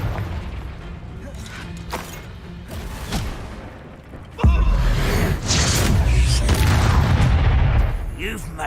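Confringo fire spell explosions in the Hogwarts Legacy video game, with a loud booming blast midway followed by sustained rumbling and scattered magical combat effects.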